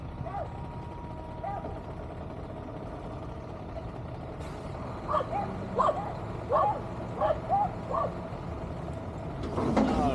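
A trash truck engine idles and rumbles steadily while dogs in the truck bark in a series of sharp yelps in the middle, then a hiss of air near the end.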